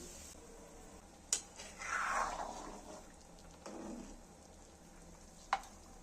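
Salted water boils in a pot for homemade momo, a faint steady bubbling hiss with a couple of sharp clicks from utensils.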